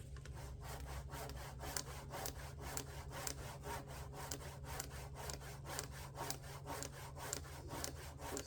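A hand saw cuts through a wooden log in the woods, with close, steady back-and-forth strokes repeating in an even rhythm throughout.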